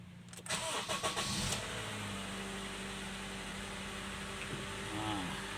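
A Honda Accord with a K24Z2 engine cranks briefly and catches, then settles into a steady, fairly quiet idle heard close by.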